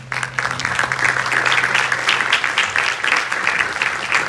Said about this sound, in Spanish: Denle un aplauso a esos padres.